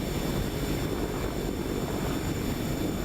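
A Sikorsky S-76C++ helicopter in a flight simulator game gives off a steady, dense rotor and turbine drone with a faint high whine, constant and unbroken throughout.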